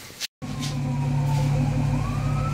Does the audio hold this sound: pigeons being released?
no